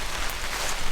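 Rain pours steadily at a cold-weather truck campsite, a dense, even hiss of drops without pause and no voices.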